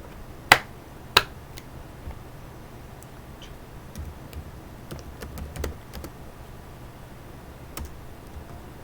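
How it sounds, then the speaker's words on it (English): Scattered keystrokes on a computer keyboard, with two sharper, louder clicks early on followed by lighter, irregular taps spread across a quiet room. "I'm typing."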